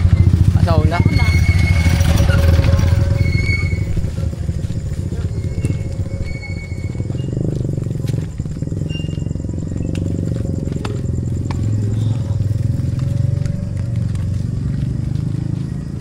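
Motorcycle engines hum and rumble past at close range amid busy street noise at a town fiesta in Prosperidad, Agusan del Sur, with a horse-like whinny early on and people talking nearby.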